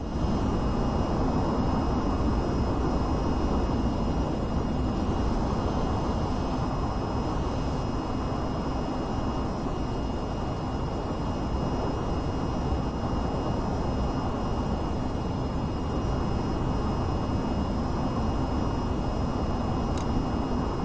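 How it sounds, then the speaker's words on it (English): VTOL aircraft engines roaring during a vertical takeoff in the VR flight game VTOL VR, a loud, steady broadband jet rumble with a faint high whine, continuous with no talk. "I kind of did a vertical takeoff."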